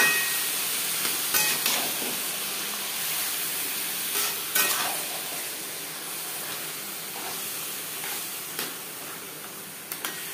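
Taro leaves sizzle and crackle in a hot pan alongside a frying hilsa fish head, a steady close hiss broken by occasional stirring scrapes and pops.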